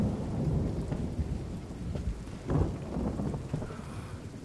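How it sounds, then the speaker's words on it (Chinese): Thunder rolls outside during a rainstorm, with steady rain pattering on surfaces and a couple of deeper, swelling rumbles that rise and fade. "外面下雨了。"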